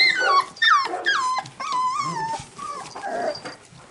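Four-week-old puppies whimper and whine in a close, loud cluster of high wavering squeals and yips, overlapping in quick bursts with no speech.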